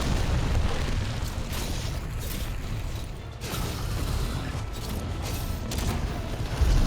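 In Monster Hunter World: Iceborne, a flint shot slams into a wall during a siege, heard as heavy explosive booms and grinding impacts over a continuous loud battle rumble.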